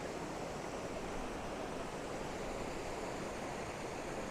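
A mountain stream in the Smoky Mountains rushes beneath a bridge in a strong flow, a steady, dense wash of water with no breaks and no voices.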